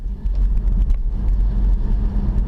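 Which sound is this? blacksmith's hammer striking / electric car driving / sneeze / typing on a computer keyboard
electric car driving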